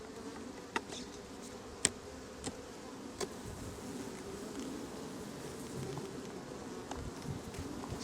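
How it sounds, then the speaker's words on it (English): Honey bees hum in an opened hive, a dense, steady drone close by, with a few sharp clicks and taps from handling the frames. "Lots of bees."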